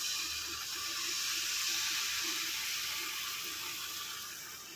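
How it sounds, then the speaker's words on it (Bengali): Milk is poured steadily into a pan while making shahi tukda, giving a continuous smooth hissing splash that holds at an even, close level for several seconds. "এইভাবে পুরো দুধটা ঢেলে দিলাম"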